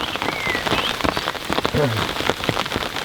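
Steady rain falls outdoors at a French lake, a dense, even patter of drops on surfaces filling the whole stretch, with a faint voice briefly underneath.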